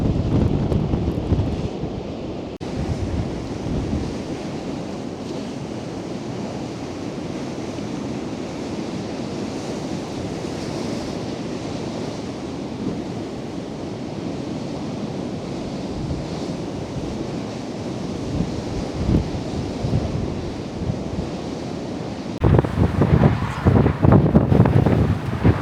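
Stormy sea waves crash and surge against the Blackpool seafront wall while 70mph wind gusts roar and buffet the microphone in a loud, continuous rush that swells harder near the end.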